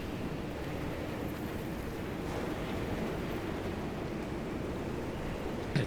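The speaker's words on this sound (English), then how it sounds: "It's windy." Steady wind blowing in the driving game Pacific Drive, a constant broadband rush that holds even for about six seconds with no breaks or voices.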